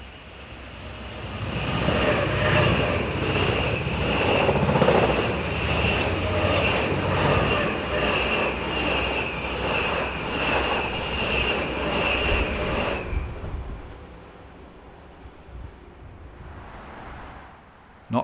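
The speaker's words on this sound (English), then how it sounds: "this Zurich-bound intercity train passes our camera" A Zurich-bound intercity train on the Olten to Oensingen main line in Switzerland passes close by with a loud, sustained rumble and rhythmic wheel clatter over about thirteen seconds, then cuts off abruptly to near quiet.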